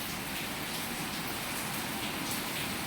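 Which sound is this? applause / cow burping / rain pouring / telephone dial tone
rain pouring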